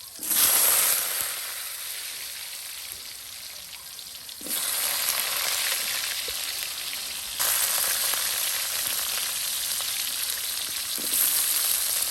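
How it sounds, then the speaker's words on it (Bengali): Potatoes fry in hot oil in a traditional Bengali village kitchen, making a loud, continuous sizzling hiss that swells in bursts every few seconds, with no talking. "বড়া ভেজে নেওয়ার পর এখন আলু ভেজে নেওয়া হচ্ছে"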